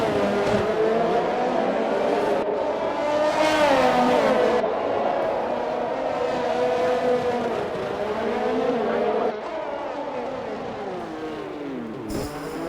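Formula 1 cars race around the Monaco Grand Prix circuit in a video game, engines whining and rising and falling in pitch as two cars battle closely, a continuous loud buzzing roar throughout.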